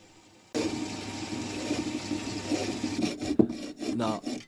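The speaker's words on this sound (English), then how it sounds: "Here I'm just turning down the head and thread section of our aluminium bolt." An aluminium bolt's head and thread section is turned down on a lathe, giving a rough, continuous rubbing scrape that starts abruptly and then wavers with some sharper catches near the end.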